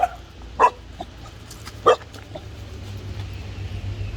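Dogs at a rural homestay near a lake in Quảng Khê, Đắk Nông Province, Vietnam, give two short sharp barks a second or so apart, fairly near, then quieter yips and a low steady hum of the surroundings.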